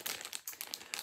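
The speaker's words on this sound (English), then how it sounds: "So I have three bottles here, which I have now put in a plastic bag to avoid any spillage" A plastic bag holding three bottles, including cutting oil for a glass cutter and black patina for a stained glass kit, crinkles and rustles in short bursts close by, with no talking.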